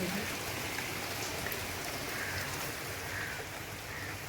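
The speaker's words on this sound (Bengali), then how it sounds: "বৃষ্টি পড়ছে সকালে" Morning rain falls steadily outdoors near a home kitchen, a constant close patter and hiss of drops on surfaces with no talking.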